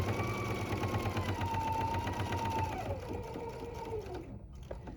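A sewing machine runs steadily while stitching the seam of a reusable wine gift bag, a close, continuous mechanical whir with a fine rapid chatter, slowing and winding down near the end, with no talking.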